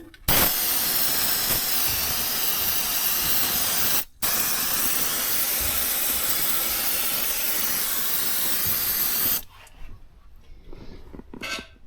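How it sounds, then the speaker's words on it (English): Aerosol can of Fluid Film coating sprayed into a Chevy/GM truck door, a loud continuous close hiss in two long bursts separated by a brief pause, then stopping abruptly. "So I'm just going to spray this little bit of this in there,"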